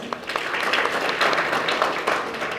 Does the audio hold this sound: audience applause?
yes